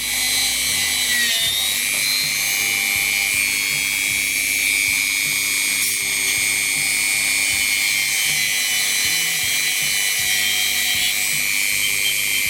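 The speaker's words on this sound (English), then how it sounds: "So we'll run over with our Dremel." Dremel rotary tool whining steadily as it polishes a steel wire on a Regula 25 five-leaf cuckoo wall clock, a loud continuous high-pitched buzz held throughout with slight load changes.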